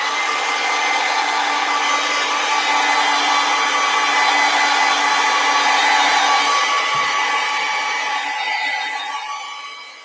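A hair dryer blows steadily on fresh acrylic paint, making a loud, continuous whirring hum close by that runs for several seconds and then begins to fade near the end, with no voices.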